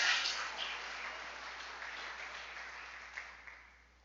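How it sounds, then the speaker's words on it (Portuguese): A congregation at a church service claps and applauds in a broad, steady wash that swells at first and then slowly fades out, without talk. "se é para bater palma, é com palmas e com louvores a Jesus"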